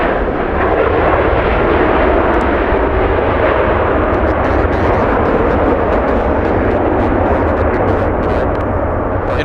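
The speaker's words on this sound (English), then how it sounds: "the A350 about to touch down" An Airbus A350 airliner landing at Los Angeles International Airport in a crosswind, close and very loud, a heavy engine roar and rumble with sharp bursts of wind buffeting crackling across it, and no voices.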